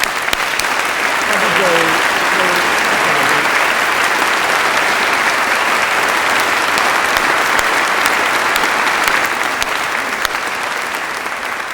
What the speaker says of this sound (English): So, big round of applause, everyone.